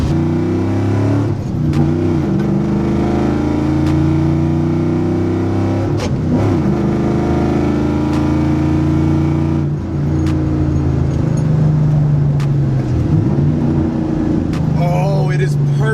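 Car with a short throw shifter on a TR-3650 transmission, engine droning and revving steadily through gear changes with brief dips between shifts, recorded from inside the cabin while a person talks.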